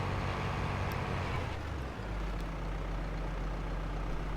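Tractor in Farming Simulator 22 pulling a lowered roller across a soybean field, a steady loud low engine drone with a brief dip, then a continuous rumbling hum.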